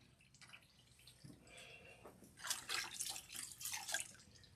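Water running and splashing to rinse a protein treatment out of hair, faint trickling and dripping at first, then a steadier, louder wet spray toward the end, with no talking.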